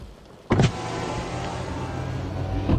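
A car's power window motor whirs steadily for about two seconds, starting and stopping with a clunk, close inside the cabin during heavy rain.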